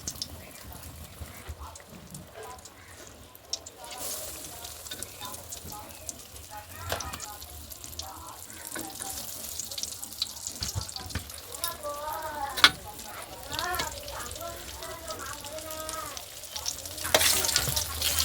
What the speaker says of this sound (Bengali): এখন এক এক করে ভেজে নেব, তেলে ভেজে নেব।